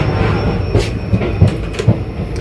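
Riding inside a moving air-conditioned train carriage on the Kolkata route, a constant low rumble fills the cabin, punctuated by several sharp clacks and brief metallic squeals from the wheels and couplings.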